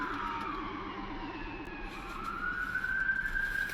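A police siren wails at an accident scene, its pitch sweeping slowly up and down, mid-distance and fairly faint over steady traffic rumble, growing slightly louder toward the end.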